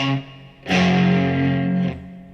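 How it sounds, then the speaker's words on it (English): Electric guitar played through the Wrecker amp model with no drive, a sustained strummed chord ringing clean but slightly crunchy with effects, fairly loud and alone, briefly restruck near the end. "only have 1 amp model, the Wrecker, it sounds like this"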